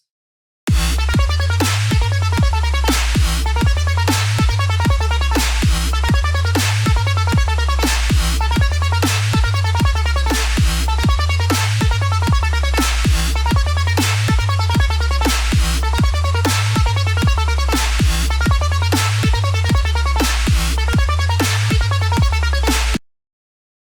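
Full electronic track with a loud, buzzy synth lead riding over steady thumping bass and drums, a driving repetitive groove throughout.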